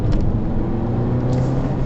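A Honda Civic MK8 with a 1.8L VTEC engine accelerates in second gear, a loud, steady low engine drone heard close from inside the car, with no voices.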